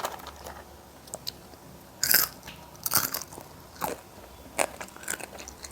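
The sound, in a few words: biting and chewing crispy French fry pakoras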